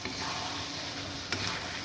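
Chilli chicken sizzling steadily in a pan after a cornflour slurry is poured in, a constant close frying hiss with one sharp stir or scrape near the end.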